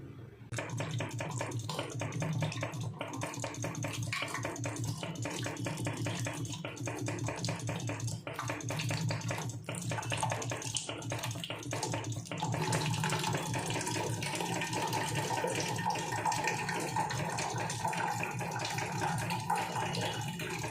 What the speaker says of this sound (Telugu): చింతపండు ఎక్కువగానే తీసుకున్నాను. ఇది కడిగేసి నానబెట్టేద్దాం.